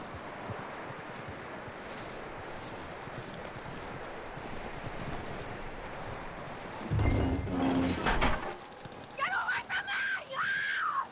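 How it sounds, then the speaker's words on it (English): Horse hooves clopping steadily over rustling ground in the video game Red Dead Redemption 2, followed by snorting and a whinny near the end, with a brief burst of other noise partway through. "That looks like a decent horse. You should keep him."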